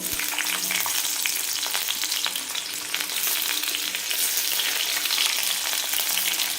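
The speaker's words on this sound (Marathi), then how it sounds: "गरम झाल्यानंतर आपल्याला याच्यामध्ये कांदा टाकून घ्यायचा आहे जो की पातीचा कांदा आहे" Chopped spring onion fries in very hot oil, giving a loud, continuous close-up sizzle with faint stirring scrapes.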